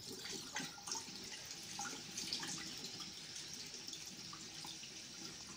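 Water from a Berdsen BR-20B dehumidifier's tank trickles and splashes into a sink in a quiet bathroom, a faint, continuous gurgling stream with small drips.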